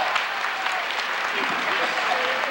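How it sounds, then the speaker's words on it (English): A group of people at a Universal Studios show clap in a round of applause, a continuous, close, bright patter with voices mixed in. "Give a round of applause."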